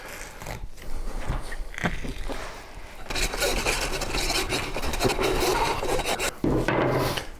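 A saw or knife cuts through a pig shoulder and grinds against the scapula bone, giving a continuous close, rough rasping and scraping with brief pauses between strokes.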